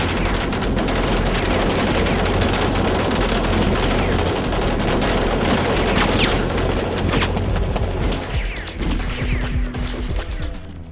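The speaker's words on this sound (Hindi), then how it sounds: "सब एक साथ फायर करो" Volley of gunfire from a group firing together, a dense, loud fusillade of overlapping rapid shots and crashes that rolls on for several seconds before thinning into scattered bursts near the end.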